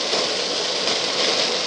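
Steady rain falling during wet-weather driving on the BR-153 highway, a dense continuous hiss of drops with no voices, close and even throughout.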